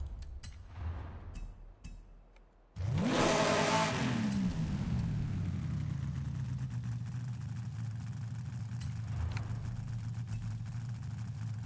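A supercharged car engine in a racing video game, tuned with a bigger supercharger to sound like a Hellcat, kicks in loudly after a quiet moment, then settles into a steady, heavy idle that runs to the end.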